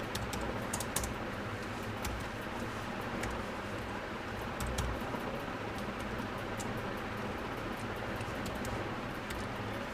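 Keys clatter on a computer keyboard as a command is typed into a Linux terminal, a faint, irregular patter of clicks over a steady background hiss, with no voices.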